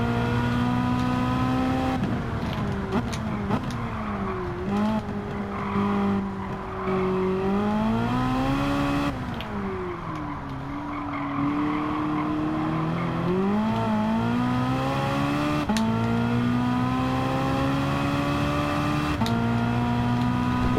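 An Alfa Romeo 4C sports car driven hard on a track, its engine pulling through long rising and falling rev sweeps with gear shifts and brief tire squeal, loud and close throughout.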